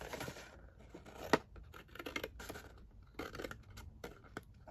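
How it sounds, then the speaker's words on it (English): Scissors snip through paper along a fold line in short, close, quiet cuts, with a sharp click of the blades and faint rustling of the sheet between strokes. "Then I'm going to cut along the fold line here at the top."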